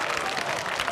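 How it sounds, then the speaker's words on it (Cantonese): Brief burst of audience applause for Dr. Ng at a community health talk, dense clapping from a crowd filling the whole moment, with a voice faintly underneath. "一齊俾啲掌聲啊"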